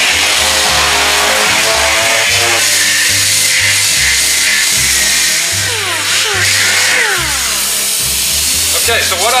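A plastic car bumper cover is hand-sanded with 80 grit sandpaper in a loud, continuous abrasive rasp with rhythmic back-and-forth strokes, close to the listener, over a low background hum.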